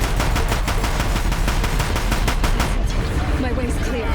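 Rapid bursts of gunfire in the video game Horizon Zero Dawn, loud and dense during a battle, giving way to quieter game sounds near the end.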